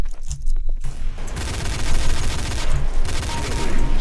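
Dual pistols in a video game firing in rapid, dense bursts, loud and close, with a brief pause early on before the shots run together almost continuously.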